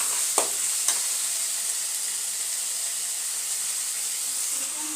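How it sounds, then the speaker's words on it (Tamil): Prawn curry ingredients sautéing in a pan, a steady close sizzle and hiss of frying with a couple of brief clinks of stirring near the start. "வதக்கி வைக்கலாம்."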